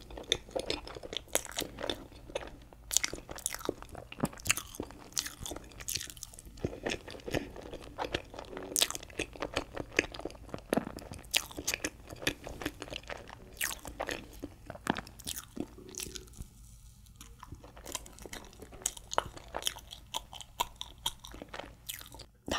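Someone chews a strawberry mochi roll close to the mic, with a steady run of sticky, soft crunchy bites and mastication and short pauses in between. Nobody speaks.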